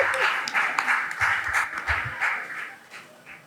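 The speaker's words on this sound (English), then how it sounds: "Guys, let's clap for him." An audience at a fireside chat on the music business claps and cheers for a singing doctor, bursts of applause rising and falling under loud crowd noise, with voices mixed in.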